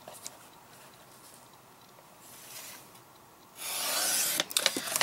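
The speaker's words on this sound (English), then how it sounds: "I'm going to trim this down to" Paper trimmer cutting striped card paper for a handmade Valentine's Day card: soft rubbing and rasping strokes, then a louder, longer slicing swipe near the end, close and with no talk.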